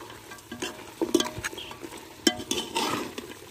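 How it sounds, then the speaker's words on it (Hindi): Spoon stirring two spoonfuls of yogurt into village-style beef namkeen gosht in a pot, giving soft scraping clinks and wet sloshing strokes at a steady, close pace with a faint sizzle underneath. "फिर इसको अच्छे से मिक्स कर लेंगे"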